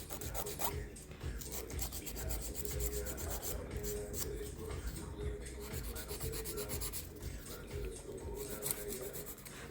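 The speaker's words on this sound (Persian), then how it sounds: "چون ناخن طبیعی هست با یه سوهان نرم‌تر هم باید کار کنید." A soft nail file rasps across natural nails in quick, rhythmic back-and-forth strokes, faint and very close, with no talking.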